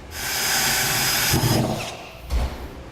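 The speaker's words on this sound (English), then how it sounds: "grab a somewhat small drill bit and we're going to drill a pilot hole" A power drill whines steadily at high speed, then bites and strains as it bores a small pilot hole, ending with a short clatter.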